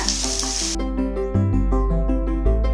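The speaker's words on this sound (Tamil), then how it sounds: "4 பல் பூண்டு, ஒரு துண்டு இஞ்சி சேர்த்து நல்லா வதக்கிங்க." Garlic cloves and a piece of ginger hit a hot pan with a loud, bright sizzle that fades quickly, leaving steady background music with a low hum.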